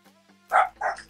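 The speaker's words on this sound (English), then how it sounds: "I'm taking care of my friend's dogs right now" A dog gives two loud, close barks in quick succession after a faint whimpering start, with no talking over them.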